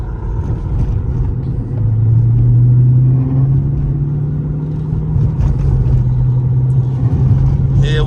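A Dodge Charger Scat Pack drives on the road at sunset, its engine giving a steady, fairly loud low drone from inside the car, with a firmer pull swelling briefly a couple of seconds in.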